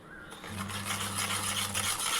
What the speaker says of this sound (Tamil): ஒரு கரண்டி வச்சு நல்லா கலந்து விட்டுக்குங்க.